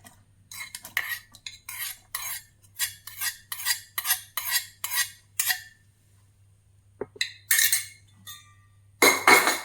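Rava appam batter with grated coconut and white sesame seeds is stirred with a spoon in a bowl, giving a series of rhythmic scraping and clinking strokes with short pauses between them, close and fairly loud, with no talking.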